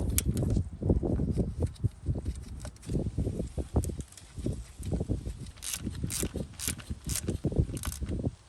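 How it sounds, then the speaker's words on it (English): A ratchet works 12mm bolts on the valve cover bracket of a Toyota 3.0 V6 3VZ-E engine, giving a steady run of close mechanical clicks and knocks, with a brief faint ratcheting buzz near the end. "I'm choking up on the ratchet just to make sure I get them tight"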